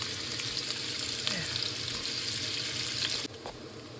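Quiche filling browning in a hot pan, a dense, steady sizzle that drops abruptly near the end, with faint scraping and no talk.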